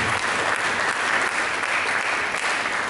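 Dense, steady applause from a church congregation during a sermon, continuous and fairly loud with no voices over it.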